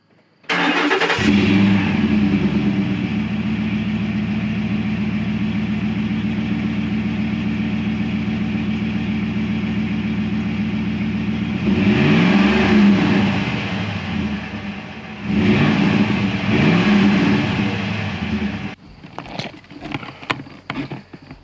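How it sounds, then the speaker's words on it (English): A Ford Raptor truck's V8 engine cranks and fires up, settling into a loud, steady rumbling idle, then revs up sharply twice before dropping back to quieter idle. "Let me set you down so you can get a true appreciation for the V8 sound."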